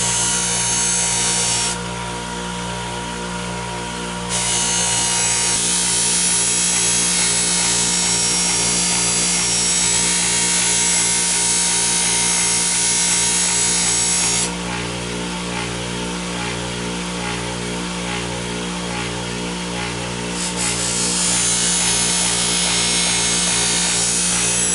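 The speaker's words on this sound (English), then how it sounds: "You've finished up the buffing of your edge here." A belt grinder hums with a steady motor drone while the edge of a butter knife blade is buffed on the running belt, the sound roughening in long stretches as the steel presses against it.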